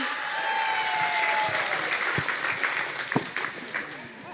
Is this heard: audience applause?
yes